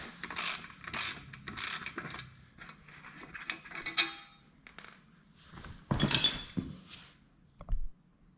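Bolts being removed from the 3-point hitch of a John Deere 140 garden tractor, with intermittent metallic ratcheting, clinks and rattles of tools and parts, close by and fairly quiet, separated by pauses.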